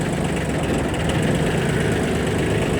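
A Kubota B1502 compact mini tractor with a tiller idles steadily and close by, its engine giving a dense, even rumble with no breaks.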